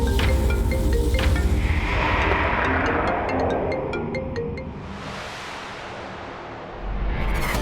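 A phone ringtone chimes in repeated electronic tones over loud dramatic background music and swelling effects.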